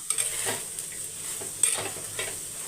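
Meal maker soya chunks being stirred in a hot pan, with a steady soft sizzle broken by a few close scraping and clinking strokes of a spoon against the metal.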